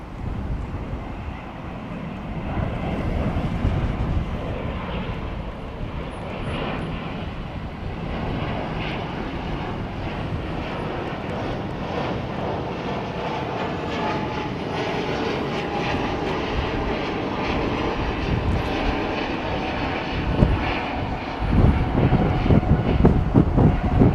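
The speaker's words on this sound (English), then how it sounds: "oh, this is the E2 jet, isn't it?" An Embraer E2 jet departing Heathrow makes a loud, continuous engine roar with rumbling low end and wind buffeting, swelling slightly stronger near the end.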